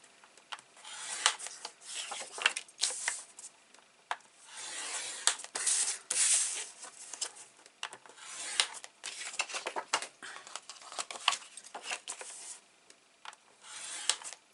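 Paper for an 8 x 10 mini album being scored along half-inch lines, heard as repeated close scraping and rubbing strokes in an irregular rhythm, with no talking.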